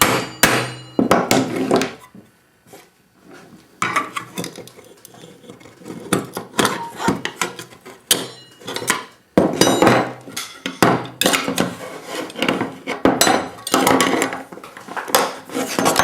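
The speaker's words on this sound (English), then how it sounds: "grabbing the nearest cold chisel and prying apart the case" A cold chisel pries apart a computer case, with bursts of sharp metallic clanks, scrapes and knocks at close range, coming in irregular clusters broken by short pauses.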